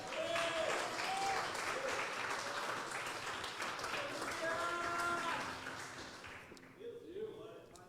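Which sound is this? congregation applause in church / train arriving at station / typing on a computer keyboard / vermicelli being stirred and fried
congregation applause in church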